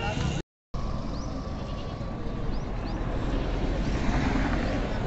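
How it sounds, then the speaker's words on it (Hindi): Goats bleating at a Dewas goat market where goats are sold for Qurbani, amid steady crowd noise and nearby voices, with a brief gap near the start. "बकरा, कुर्बानी के लिए पूरा तैयार जानवर"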